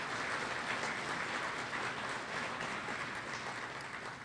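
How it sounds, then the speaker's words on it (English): Audience applause at a public safety awards ceremony, sustained dense clapping from many people at moderate distance, steady throughout and easing slightly at the end. "Let's give them a round of applause, please."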